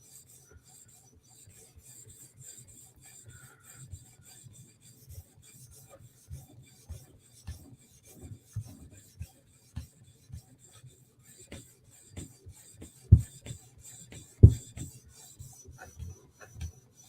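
Tanto knife blade being sharpened by hand, a soft steady rasping of steel on an abrasive surface in repeated strokes, quiet and close, with a few sharper louder scrapes near the end and no talk.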